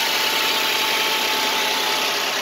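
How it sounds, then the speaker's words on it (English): A 2010 Buick LaCrosse with a 3.0 V6 idles after a cold start under an open hood, giving a loud, steady, even engine drone with a constant whine and no pauses. "Let's go ahead and check out the motor."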